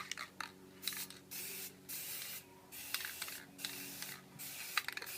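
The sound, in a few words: Never Wet liquid repellent sprayed onto a t-shirt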